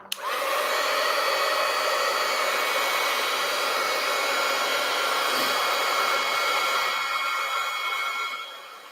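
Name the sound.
hair dryer drying a craft project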